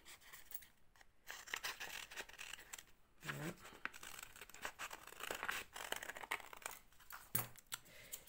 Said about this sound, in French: vous faites tout simplement une forme de feuille et vous allez la découper